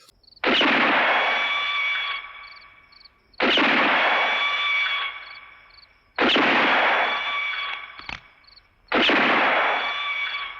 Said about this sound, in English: And then he shoots Clint Eastwood's hat off, and it's flying straight up in the air every time he shots him